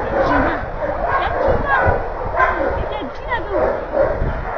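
Several dogs gathered together during the adoption of a rescued dog, giving repeated yips and barks mixed with whimpers over a busy background while people talk nearby.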